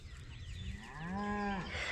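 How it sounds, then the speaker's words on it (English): A Hereford cow that has yet to calve gives a single drawn-out low moo, rising into a clear sustained bellow near the end, fairly close, over faint outdoor background. "That's the Hereford cow that is yet to calve."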